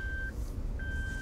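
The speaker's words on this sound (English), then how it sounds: "let's tackle the annoying rear seat alarm." A Suzuki Jimny's rear seatbelt reminder sounds a thin electronic tone with two brief beeps, fairly quiet over a low rumble of the vehicle.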